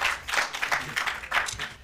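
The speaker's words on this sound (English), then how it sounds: "Please, a round of applause to our contestants." Audience applause rises for the contestants at a university law moot competition, steady clapping from a seated crowd filling the whole stretch with a few louder swells, no voices over it.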